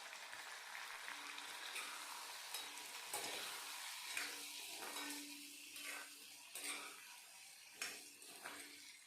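Tomato, potato and onion fry in a pan with a steady, soft sizzle. Stirring scrapes and taps break through now and then, and no one speaks.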